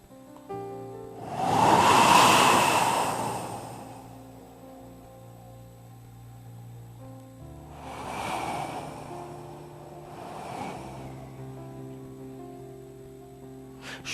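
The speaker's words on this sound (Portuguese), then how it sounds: "ouve o barulho do vento, inclina assim o pescoço, e o vento vem" Wind gusts blow through a sermon as a sound effect, one loud broad whoosh swelling and fading, then two softer gusts later over a low steady hum.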